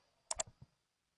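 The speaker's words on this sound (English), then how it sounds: "So click that button" A mouse button clicks on a computer, two sharp close clicks in quick succession followed by softer release taps, isolated against silence.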